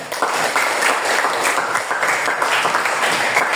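Pupils applaud in an Indonesian Islamic religious-education classroom after a group's answer, a steady, dense burst of clapping at close range that stays loud throughout and has no talk over it.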